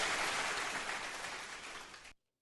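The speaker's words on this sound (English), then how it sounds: "Y'all give them a big round of applause" Audience applause for the candidates of a last-chance candidate debate on a talk show, a dense burst of clapping that holds steady and loud, then cuts off abruptly after about two seconds.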